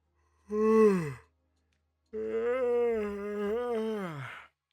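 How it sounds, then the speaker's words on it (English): A person lets out a voiced yawn: a short rising-falling breathy tone, a pause, then a longer drawn-out groaning yawn that wavers in pitch before trailing off, close and clear with no other sound. "That was actually a real yawn."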